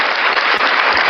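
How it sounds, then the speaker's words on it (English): Dense, steady applause at close range runs for about a second at a podcast recording, a continuous wash of clapping with no one talking over it. "I'm gonna give y'all a round of applause."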